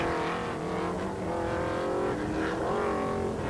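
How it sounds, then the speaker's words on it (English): A race car at a solo autocross event drives toward the finish. Its engine drones loud and steady throughout, with harmonic whine rising and falling as it works through the course. "Here's our leader, Betsy Bryan Tinsley, car number 34, heading towards the finish."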